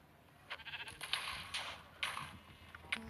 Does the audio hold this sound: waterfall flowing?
no